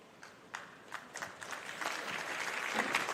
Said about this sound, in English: And some good claps for our seniors here at Portage High School.